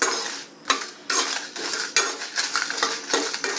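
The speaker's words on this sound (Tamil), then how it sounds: "மிளகாய் வந்து வதங்கட்டும்." Dry red chillies with stems left on, frying in a pan for kara chutney, heard as loud metal clinks and scrapes of a utensil against the pan over a steady hiss, with no voices.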